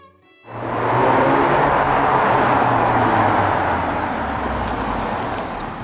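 Citroën DS5 with the THP 200 petrol engine accelerating hard, a loud sustained engine roar that swells in after a brief quiet start and holds strongly, easing slightly toward the end, with no talking.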